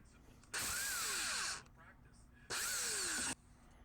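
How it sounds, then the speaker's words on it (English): Air impact wrench on a rusted front strut bolt of a 2002–2012 Toyota Camry, two loud rattling bursts of about a second each separated by a pause, close up with a faint background hum. "I use my vice grip to grab it and the impact to pull"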